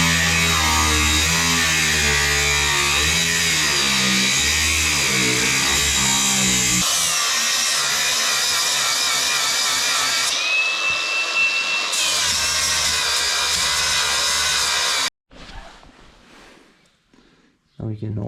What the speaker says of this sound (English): So I'll cut that bolt off and we'll pop them out